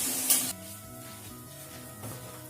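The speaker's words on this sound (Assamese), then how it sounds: "এতিয়া এই মুগৰ দালিখিনি ভালকৈ ভাজি লওঁ" Mung dal fries in a pan with a soft sizzle, starting with a brief louder hiss of scraping or stirring before settling into a faint, steady crackle with a small stir near the end.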